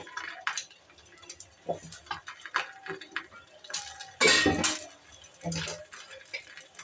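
Egg curry being stirred in a pan at home, with scattered light clinks and scrapes of a spoon against the metal, intermittent and close, with a few louder knocks and wet sloshing bursts.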